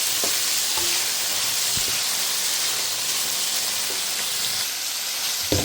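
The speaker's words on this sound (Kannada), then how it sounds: "ಟೊಮೆಟೊ ಹಾಕೊಳ್ಳಿ ಫ್ರೈ ಮಾಡ್ಕೊಳ್ಳಿ" Chopped tomatoes frying with lightly browned onions in a pan for a rustic goat head-and-trotters sambar, giving a loud, dense, continuous sizzle with a few soft stirring knocks and no talk.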